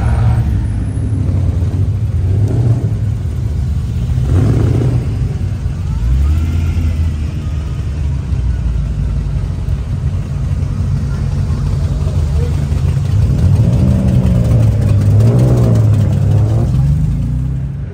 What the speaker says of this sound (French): Les voitures s'alignent les unes derrière les autres pour débuter cette première journée.